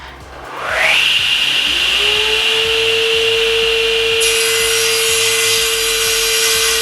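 A SIP cast iron 3hp table saw spins up and cuts through wood, a loud steady whine and rasping blade drone that holds evenly and brightens near the end, with no talk.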